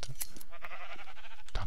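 A sheep in the Minecraft video game, played in the Kingdoms modpack, gives a short wavering bleat in the middle of other game noises, with a few clicks and a low thump near the end.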